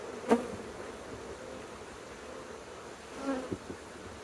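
Honeybees in boxes packed full during a hive inspection hum in a steady, moderately close drone, with a few brief louder knocks and bumps.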